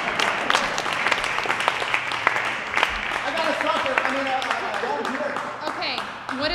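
A comedy open-stage audience applauds a volunteer joining the performer, steady clapping with some voices mixed in, moderately loud and continuous throughout.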